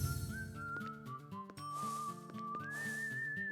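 Call whistle blown in the Wild Arms 3 video game, a bright sustained whistled melody of gliding tones over a soft backing chord, clear and continuous with no talk.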